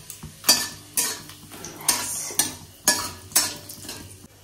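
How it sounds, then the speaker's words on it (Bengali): Whole cumin, dried red chilli and bay leaf temper in hot oil in a wok, with repeated clinks and scrapes of a utensil against the pan at a steady rhythm over a soft, faint sizzle. "কড়াইতে তেল দিয়েছি, গরমও হয়ে গেছে, জিরে দিয়ে দিলাম, আর দেবো শুকনো লঙ্কা"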